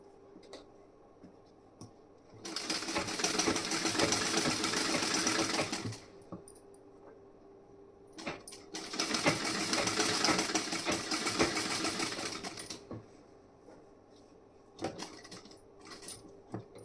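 Sewing machine stitching the side and back parts of a blouse, running in two sustained bursts of about three and four seconds separated by quiet pauses and a few light clicks.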